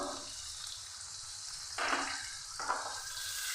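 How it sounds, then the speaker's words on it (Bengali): Turmeric, green chili and spices frying in a pan with a steady close sizzle throughout, swelling briefly louder twice as the mixture is stirred. "এবার আমি সমস্ত মশলাগুলো খুব ভালো করে লাল করে কষে নেব।"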